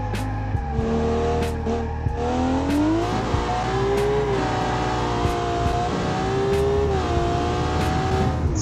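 A built track car with very wide rear tires laps a circuit in the BeamNG driving game, its engine droning and rising and falling in pitch through gear changes, steady and close throughout.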